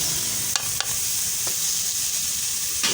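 Dried coriander, cumin, garam masala and chicken masala hit hot oil in a pan while cooking black zucchini. A loud, steady sizzle and hiss runs throughout, with a few sharp clinks from stirring.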